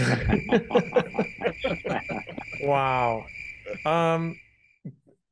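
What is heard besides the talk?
crickets chirping sound effect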